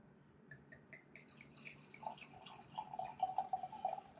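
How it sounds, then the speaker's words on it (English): Cherry melomel mead is poured from a bottle into a glass, a faint trickling, gurgling pour that grows fuller and splashier toward the end in a quiet room. "So we'll get on with the pour."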